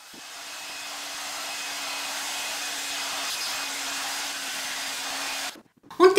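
A hair dryer blows steadily while drying curly hair flipped forward, a close, constant whooshing roar with a faint tonal hum, cut off abruptly near the end by brief handling noise.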